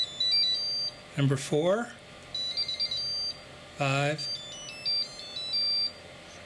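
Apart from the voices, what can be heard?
Graupner Polaron EX-1400 charger alert sounds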